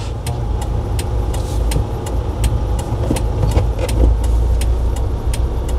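A 2.5-ton manual transmission truck rolls along with the clutch half engaged, its steady engine drone and road rumble continuous and fairly loud inside the cab, with faint ticking clicks repeating throughout.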